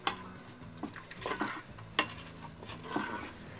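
A spoon stirs caramel pork inside a Moulinex Cookeo pot, giving quiet, irregular scrapes and clinks against the metal at close range, with no talk.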